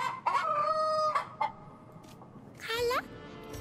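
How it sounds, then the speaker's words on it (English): A rooster crows in the video game Yes, Your Grace, one loud, clear crow near the end that rises and then falls away, after a few shorter calls at the start. No one speaks over it. "A rooster?"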